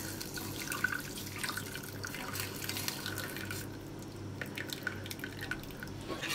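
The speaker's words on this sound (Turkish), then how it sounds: "Şöyle etin suyunu süzüyorum içine." Meat broth is strained into a cooking pot, a soft, steady trickle and drip of liquid pouring in close by, faint but continuous throughout.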